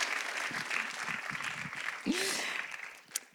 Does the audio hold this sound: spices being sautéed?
no